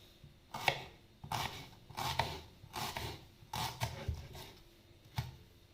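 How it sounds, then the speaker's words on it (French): A knife chopping an onion on a board, sliced into thin strips, in a run of about seven firm, uneven cuts close by, each a short crisp knock with a little scraping between. "Je vais couper mon oignon."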